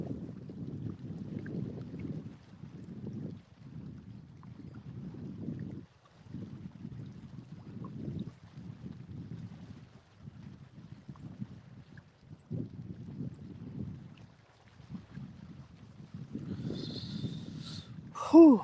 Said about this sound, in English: Whew, wind's starting to pick up again.